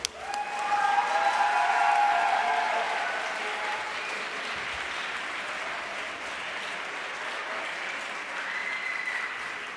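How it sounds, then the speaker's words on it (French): An audience at a student entrepreneurship awards gala in Montreal breaks into loud, sustained applause with scattered cheers, swelling early then holding steady for several seconds. "on va applaudir pour qu'ils nous entendent où est-ce qu'ils sont"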